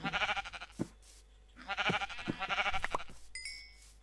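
Several sheep bleats in Minecraft, wavering and nasal, come in short bursts with brief pauses between them, fairly close and clear.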